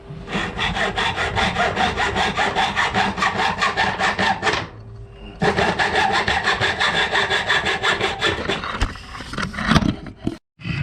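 A saw cuts wood for a door frame in fast, even back-and-forth strokes, loud and close. The strokes stop briefly, then resume, and end in a few irregular knocks and clatters.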